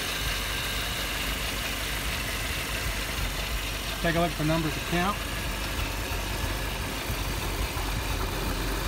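A carbureted car engine idles steadily at about 700 RPM with the choke wide open after a warm restart, a low, even hum close by, while a person briefly speaks over it midway.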